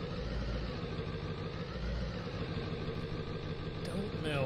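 A 90s-era Ford truck engine idles in Farming Simulator 19, with a steady, even, low rumble running throughout and a voice talking over it.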